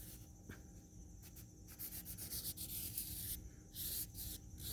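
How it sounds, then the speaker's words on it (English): A cloth rubs cleaner around the rim of a Tesla Model Y Long Range wheel, giving soft, uneven scrubbing strokes that start and stop close by, with no voices. "Just rub it all the way around."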